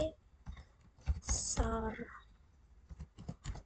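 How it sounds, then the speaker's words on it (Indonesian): Computer keyboard keys clicking as a command is typed into a Linux terminal, a few light taps scattered under a person's speech, with a louder burst of sound in the middle. "kita bisa ketik perintah nano /etc/apt"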